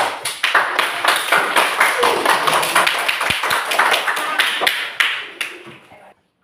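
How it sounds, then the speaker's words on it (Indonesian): Classroom students clap together, a close, lively patter of many hands with distinct irregular slaps for about six seconds, with some voices mixed in, ending abruptly in silence. "Tepuk tangan semua dulu."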